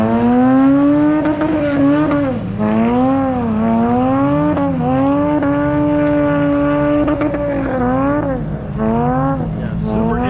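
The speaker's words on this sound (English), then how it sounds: "super interesting sound from that car" A car with a rear-mounted Honda V6 swap and a slipping automatic transmission revs nearby at a car show, its engine tone rising and dipping in repeated loud sweeps with a strong harmonic whine, and no talk.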